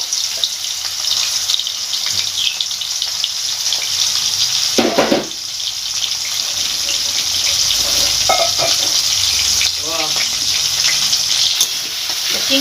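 Shrimp rubbed with salt and turmeric fry in hot oil, a continuous close sizzle with occasional stirring scrapes and brief clinks, loud and steady throughout without talk.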